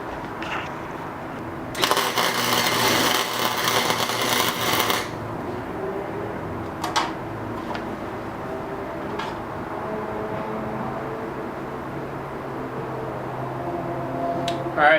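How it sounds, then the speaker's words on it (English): Tack welding on a homemade go-kart pedal plate: one loud, dense crackling burst of a few seconds near the start, then quieter shop ambience with a few faint clicks. "Do another weld on the back side here. Tack weld."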